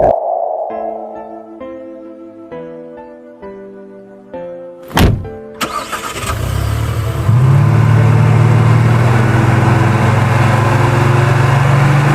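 Cartoon sound effect of a car arriving in an animated series: a short plinking musical jingle, then a sharp whoosh and thump, followed by a loud, steady engine rumble that swells and holds as the car pulls up.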